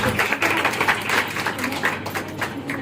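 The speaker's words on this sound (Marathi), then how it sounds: "जरा जोरदार टाळ्या आमच्या या सुंदर कपल्ससाठी व्हायला पाहिजे" Audience applause for a couple celebrating their 25th wedding anniversary on stage, a steady mass of clapping throughout, fairly close and loud with no talk over it.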